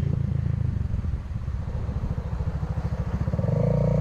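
A motorcycle rides along a mountain road between Badrinath and Rishikesh, its engine thumping in a close, steady pulse that dips midway and then rises as it revs harder at the end.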